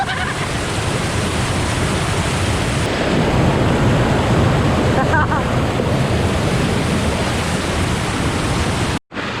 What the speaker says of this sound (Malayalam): ഇതാണ് ഇത്തിരി കൂടി കുഴപ്പമില്ലാത്തൊരു വാട്ടർഫോളായിട്ട് തോന്നിയത്.